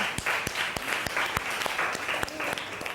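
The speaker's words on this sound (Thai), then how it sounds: "ปรบมือดังๆให้กลุ่มที่1เลยค่ะ" Students in a classroom applaud the winning group, a short burst of brisk, uneven clapping from nearby hands with some voices mixed in.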